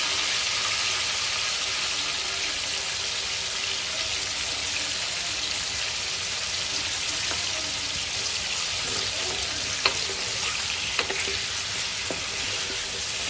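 Meat pieces and salt sizzle steadily in a pan for masaledar biryani, a constant close frying hiss with a few light stirring clicks toward the end and no talking.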